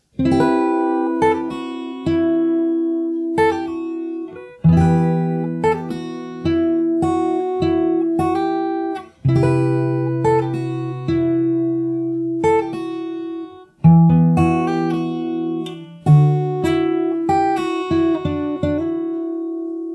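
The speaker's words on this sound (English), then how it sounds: "So to end, I'll play the outro again." Fingerstyle acoustic guitar plays the outro of a song alone, with plucked melody notes over sustained low bass notes in slow phrases that swell and fade several times.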